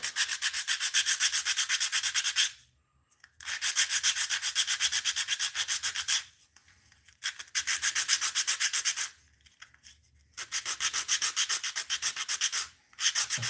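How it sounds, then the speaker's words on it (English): Rapid rhythmic scraping of sandpaper on a fishing lure in several bursts separated by short pauses, close and steady, with no talking. "We'll do some relaxation and do some sanding."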